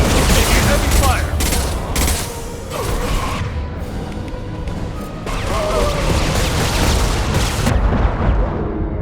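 Heavy gunfire in the video game Mass Effect 2: dense, loud bursts of shots and crashing impacts run continuously, with booming hits and mechanical clanks throughout.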